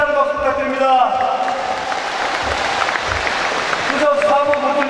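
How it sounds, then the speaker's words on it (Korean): Applause rises from the seated crowd at a party primary vote count in a university gymnasium, a few seconds of broad clapping framed by a man's amplified speech at the start and end. "역시 마찬가지로 박민수 의원님께도 커다란 박수 부탁드립니다"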